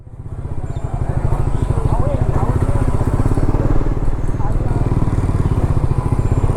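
A Triumph Scrambler 400X with an updated ECU thumps steadily at close range during a test ride. The engine pulses are regular and loud, with wind noise in the background and a voice speaking faintly under it.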